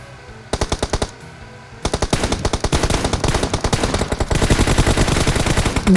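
Automatic gunfire in the mobile battle royale game PUBG Mobile, with a short rapid burst, a pause, then long sustained rattling volleys of close, loud shots and no voices.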